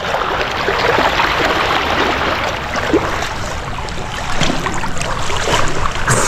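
A strong river current rushing steadily, a loud broadband wash of churning water with some wind, continuous throughout with no speech.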